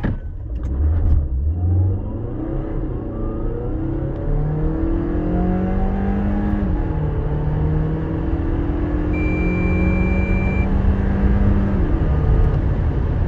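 A 218 hp car accelerates hard through a timing run, the engine note climbing steadily through several gear changes over about thirteen seconds, loud and close with no talking.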